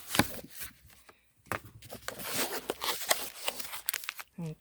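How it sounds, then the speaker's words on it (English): Packaging being torn open and crinkled to reach a newly mailed engraved cutting board, with quick close ripping and rustling bursts, a short pause, then more tearing and handling. "So let's go ahead and open it up"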